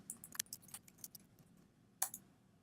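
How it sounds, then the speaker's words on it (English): Faint, sporadic key clicks from a computer keyboard while a list is typed into a Google Slides presentation: a quick cluster of taps early on, a pause, then another sharp pair of clicks near the end, with no voices. "And so then I'll type my list up."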